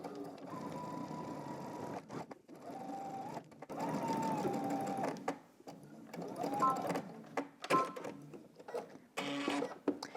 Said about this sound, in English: I'm stitching a 1/4 inch away from my seam